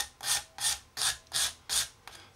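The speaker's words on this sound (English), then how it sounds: "all we do is go around using it like a rasp to roughly start shaping it" Five evenly spaced rasping strokes on a CA filler model, close and fairly loud, each a bright scraping burst with brief pauses between, followed by a weaker sixth scrape and no talking.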